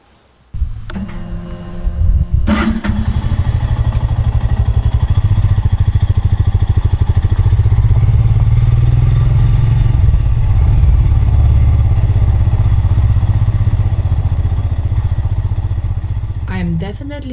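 A Royal Enfield Scram 411 motorcycle starts up and is ridden at an easy pace. A loud, steady single-cylinder engine rumble runs close and continuous, with wind noise over it.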